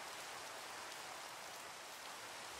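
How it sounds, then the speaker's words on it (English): Rain falling in the video game Minecraft, a steady, dense hiss of drops pattering on surfaces, even and unbroken, with no talk over it. "Hello, Rain."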